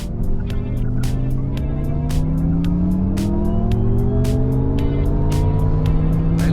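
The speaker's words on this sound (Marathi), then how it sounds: "फिर थोड़ा एक्सेलरेशन दे दीजिए" An MG Cyberster electric sports car accelerates, its motor whine climbing steadily in pitch over continuous road and tyre noise, while regular sharp thumps tick past from the road surface.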